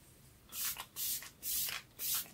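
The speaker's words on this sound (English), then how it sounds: "And so let's do the e.l.f. Microfine Setting Mist." Four quick, close sprays of e.l.f. Microfine Setting Mist hiss out in an even rhythm, each a short bright burst of fine mist with quiet pauses between, no talking.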